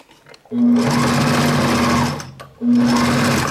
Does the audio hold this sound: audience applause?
no